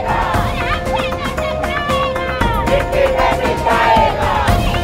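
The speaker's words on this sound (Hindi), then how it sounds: "कार्यकर्ताओं की भीड़ का हंगामा" A loud crowd of political party workers raises an uproar outside an MLA's office, with many voices shouting and chanting slogans together in a dense, continuous roar that is close and unbroken.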